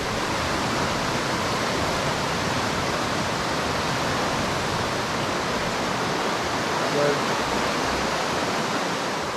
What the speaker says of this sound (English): You can hear the creek starting to make a roar.